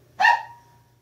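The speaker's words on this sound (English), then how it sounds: "there's a dog bark. Dog is unhappy." A single sharp bark from an unhappy dog rings out fairly close, then fades quickly over a steady low hum, with no talking.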